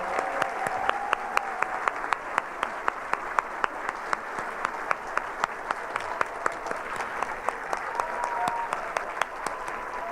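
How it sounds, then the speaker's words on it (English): An audience applauds steadily at a school district's awards ceremony for teachers and retirees. The clapping is moderate and continuous, with sharp individual claps standing out near the front and faint talk beneath it. "How about we give them all a round of applause?"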